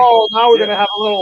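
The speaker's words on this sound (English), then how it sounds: "That's my fire alarm in my building." A shrill, steady electronic fire alarm tone sounds continuously in the background while a person talks over it in the foreground.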